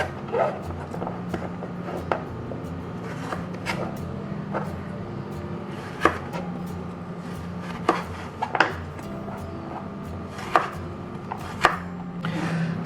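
A knife slices through sweet potato on a cutting board while making fried sweet potato sticks. Irregular crisp chops and taps stand out over a quiet kitchen background.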